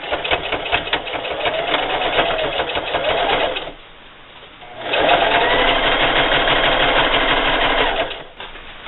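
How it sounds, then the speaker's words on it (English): A sewing machine zigzag-stitches bias binding onto a fabric tool pouch in two close, loud bursts of rapid mechanical chatter, separated by a short pause. "So I'm just going to line up this bias binding with the middle of my presser foot here as best I can. And just zigzag."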